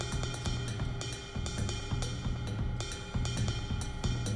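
Drum samples from a Rample Eurorack sampler module play a steady, layered pattern of kicks, snares and hi-hats, each hit sharp and repeated at an even tempo, mixed close with no voices.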